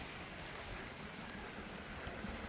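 Several waterfalls pour together beside a woodland footpath near an abandoned mill, a broad, steady rushing roar with no breaks, fairly quiet overall and with no talk.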